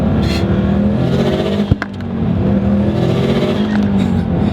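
A tuned 2005 Subaru STI engine pulls hard and loud through the gears, a steady roar broken by one brief dip at a shift before it climbs again, heard from inside the car.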